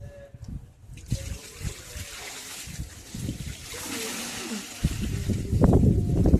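Water trickles and splashes as it is poured out, growing louder toward the end, with a few knocks and a faint voice.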